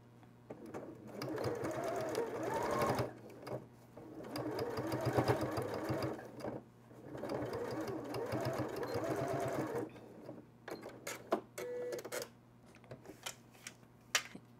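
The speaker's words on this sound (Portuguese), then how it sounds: "Eu vou usar o lado mais largo, eu vou apoiar aqui e vou costurar" A sewing machine stitches bias binding onto a waterproof slipper holder in three long steady runs of rapid mechanical chatter, separated by short pauses, then a few brief clicks and handling sounds near the end.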